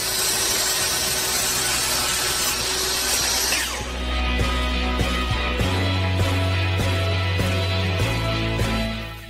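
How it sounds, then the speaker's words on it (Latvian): A circular saw cutting wood whines steadily and loudly, then drops into a lower drone with repeated rhythmic strokes, close up with no voices. "to var izdarīt arī uz zāģa, kur 5 grādu leņķī mēs iestatām diska slīpumu un leņķa vadotu."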